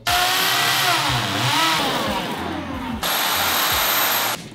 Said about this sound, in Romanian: Haideți, doamne Nescu, hai să dăm găuri